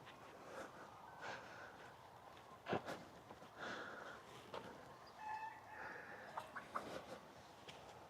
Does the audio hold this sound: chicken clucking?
yes